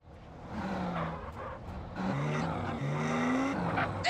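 Cars racing in GTA San Andreas during the High Stakes, Low Rider mission, engines droning steadily with rising whines and tire squeals throughout, loud and continuous with no talk.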